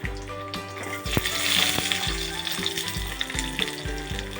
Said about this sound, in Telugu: మనం ఆయిల్ వేడెక్కిన తర్వాత శనగపప్పు మినప్పప్పు పల్లి